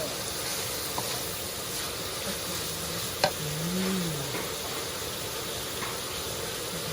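Duck offal fries in a pan for Isan-style duck larb with a steady, close sizzle, broken by one sharp click and a brief low voice partway through.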